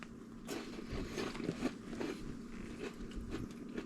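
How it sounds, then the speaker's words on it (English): Crunchy plant-based snack being bitten and chewed close up, a run of irregular crisp crunches lasting several seconds with no talking. "And you can hear that crunch."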